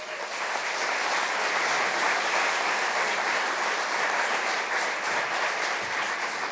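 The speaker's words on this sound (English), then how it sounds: "Give him a round of applause, please." Sustained applause fills the room at a university athletic hall of fame ceremony, a broad, even wash of many clapping hands that holds steady and fairly loud from start to finish.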